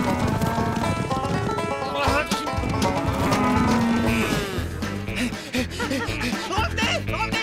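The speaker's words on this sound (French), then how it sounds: "mais qu'est-ce qu'elle dit, la vache?" A cow moos repeatedly and loudly over a busy soundtrack with music, horse hoof clip-clops and voices, the long lowing calls standing out clearly in the mix.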